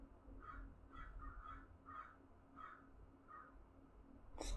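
A crow caws repeatedly at a steady pace, about six or seven calls, moderately distant over a low background rumble, with a brief noise burst at the very end.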